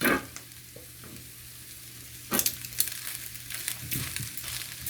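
Green onion is tossed into a tofu stir fry in a hot pan, bringing a burst of sizzling at the start and another louder surge midway, with scraping stirs over a low background hum.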